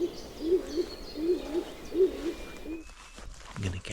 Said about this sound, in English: I heard over here a calling stock dove, which is pretty cool.